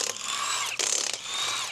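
A ratchet with a protective sleeved socket clicks rapidly while loosening a chrome wheel on a Lamborghini Diablo, two close bursts of fast ratcheting separated by a brief pause, with no voices.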